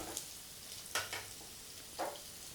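Chopped onion sautéing in a hot pan, a quiet, low sizzle with two brief stirring scrapes standing out.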